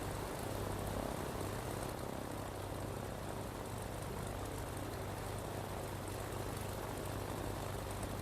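Steady airplane engine drone during a landing in Microsoft Flight Simulator X, a continuous broadband roar at even loudness throughout with no talking.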